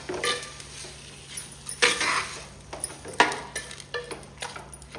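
Metal utensil scraping and clinking against a pan as chopped ivy gourd with salt is stirred in tempering oil, irregular clatters with a faint sizzle underneath, close by.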